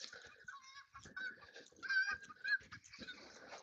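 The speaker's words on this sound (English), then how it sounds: "man, these geese are going nuts" Geese honk loudly and repeatedly in an excited, overlapping chorus, close by, with calls rising and falling throughout.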